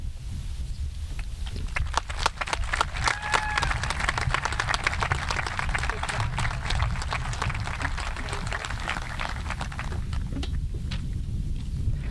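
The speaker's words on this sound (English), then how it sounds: "One more round of applause" A graduation ceremony crowd gives sustained, steady applause, a continuous wash of many hands over a low background rumble.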